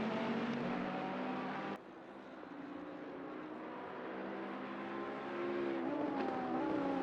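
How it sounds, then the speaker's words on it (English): Ferrari and Bentley race cars in an endurance event at Zolder circuit, engines droning steadily with shifting pitch and a brief gear change, then rising again as the cars accelerate, heard from a distance. "Ferrari pulls to the inside. Bentley's going to find the grip on the outside"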